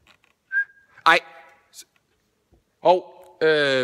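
Inside a theatre, a person gives a short, thin whistle, close and clear. Bursts of talk and vocal sounds come before and after it in an otherwise quiet room.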